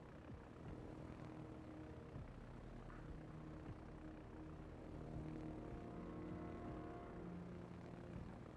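Planes in the naval battle game World of Warships drone overhead, a faint, steady propeller-engine hum that rises and falls slightly throughout, with no voices.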